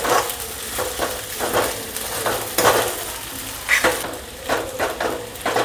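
Sabudana khichdi with potato being stirred in a hot pan, a steady sizzle of frying under repeated scraping strokes of a spoon against the pan.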